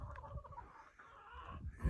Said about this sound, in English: It's chicken time.